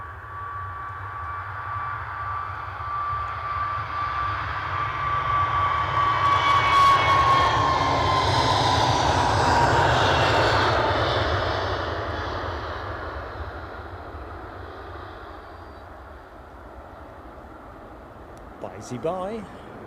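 Boeing Dreamliner airliner engines at Edinburgh Airport, a loud broad roar that swells to a peak midway and slowly fades, with a falling whine early on and a voice talking faintly underneath.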